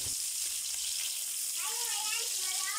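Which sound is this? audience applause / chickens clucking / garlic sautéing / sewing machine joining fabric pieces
garlic sautéing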